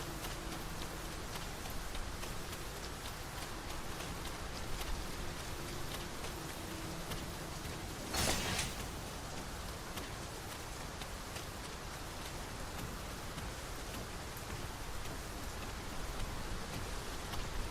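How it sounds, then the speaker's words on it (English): Heavy downpour in the video game Dragon's Dogma 2: a dense, even hiss of rain falling steadily throughout, with one brief brighter splash or crackle partway through and no talk. "This downpour seems unlikely to abate."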